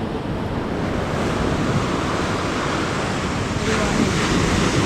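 Steady broadband roar of ocean surf with wind buffeting the microphone, continuous and fairly loud throughout, no distinct individual wave breaks.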